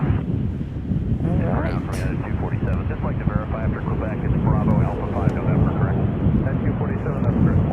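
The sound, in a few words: KLM Boeing 777 jet airliner at Chicago O'Hare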